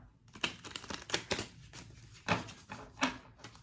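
Tarot cards being shuffled by hand, a series of crisp papery riffles and taps in irregular bursts, close and fairly loud against a quiet background.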